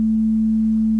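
A steady, pure low 220 Hz synthesized sine tone holds unchanged and loud for about a second, smooth and without any variation.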